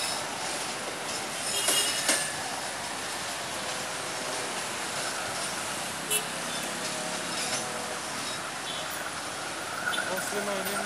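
CC20128 locomotive hauling the Baraya local train in Indonesia rumbles past steadily, with a broad rail roar and occasional squeals and clanks, fairly near, and people talking over it.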